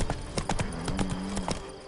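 Roach the horse gallops in The Witcher 3, rapid rhythmic hoofbeats close by with a brief low snort or whinny mixed in, no talking.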